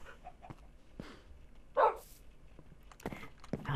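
A dog in the Minecraft video game gives a single short bark amid faint, scattered clicks and small game noises.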